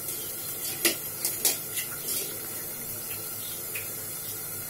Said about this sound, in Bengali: তো এটা গরম পানি দিয়ে দেওয়া হয়েছে